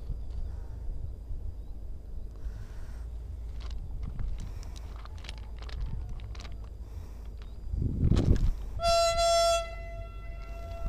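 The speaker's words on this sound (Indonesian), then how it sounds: "Ada kereta lewat, guys." A train rumbles past steadily beside a swamp, with a loud low surge near the end followed by a sustained horn blast.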